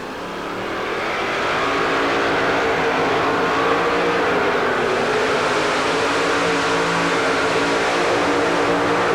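A two-wheel-drive GMC pulling truck's engine revs hard and holds a high, straining roar that builds in the first seconds and stays steady under heavy load at a truck pull.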